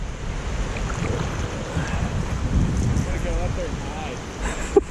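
Wind gusts steadily across open water on a kayak smallmouth bass fishing trip, producing a constant rushing roar with buffeting against the microphone. Faint voices are heard beneath it.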